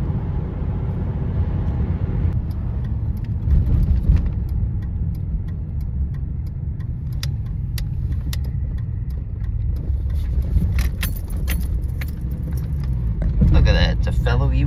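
A 2007 Ford Ranger with a 4.0 V6 and manual gearbox drives along towing an empty 6x12 U-Haul trailer, giving a steady low engine rumble and road noise, with faint rattles and clicks throughout.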